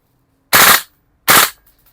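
A GHK DDM4 MFR airsoft rifle fires two loud, sharp bursts on full auto, each about a third of a second long, separated by a short pause in an otherwise quiet indoor setting.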